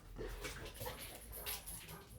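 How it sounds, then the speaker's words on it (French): A dog barking outside, muffled and distant, with several soft yelps and whimpering barks coming through steady background noise. "il y a un chien qui aboie dehors"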